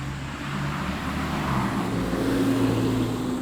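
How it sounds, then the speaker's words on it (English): A bus rolls past on a road, a steady, fairly loud engine and tyre rumble holding throughout the clip with no talk over it. "here comes the bus"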